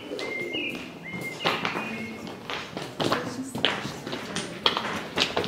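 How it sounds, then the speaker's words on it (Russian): Pigeons coo and flutter close by, soft cooing calls mixed with tapping and light thumps of wings and feet over a quiet outdoor background, with faint human sounds around them. "Голуби."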